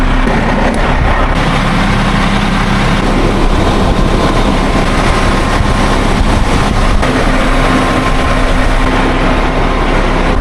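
An Oshkosh HEMTT 10x10 military truck cruises on the highway, its diesel engine giving a dense, unbroken roar thick with road and wind noise, loud and constant with no voices.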